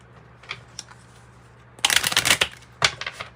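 A Kipper card deck is shuffled close by, with two bursts of crisp riffling cards and a few light taps before them, no talk.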